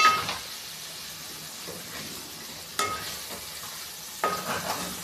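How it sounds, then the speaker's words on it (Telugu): Chicken curry heating in a pot on a low flame, gentle sizzling broken by three louder stirring scrapes spaced a second or two apart, no talking. "ఒక సిమ్లోనే వేడి చేస్తున్నాను నేను ఇదంతా."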